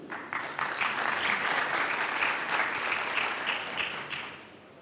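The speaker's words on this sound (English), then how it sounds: "let's give a big round of applause for Dr." At a fireside chat during a conference, the audience applauds the most senior rabbi in the UAE with a steady round of clapping that swells and then fades toward the end.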